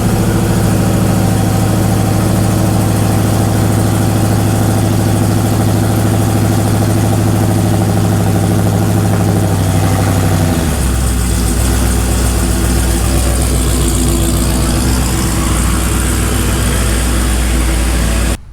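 A Dodge truck engine runs loud and close at a steady idle, its deep even rumble dipping and shifting in pitch partway through as the idle settles, with no voices over it.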